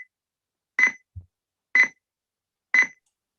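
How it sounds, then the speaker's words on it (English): Three short electronic beeps from a simulated buzzer repeat at regular one-second intervals, clear and isolated against silence, with a faint low thump between the first two. "So it is giving the beep sound in some interval."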